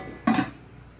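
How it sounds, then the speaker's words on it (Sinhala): A small clay cooking pot, about 16 cm across and 10 cm deep, knocks once against a hard surface, giving a short close dull clink with a quick fade. "මේ තියෙන්නේ පොඩි භාජනේ."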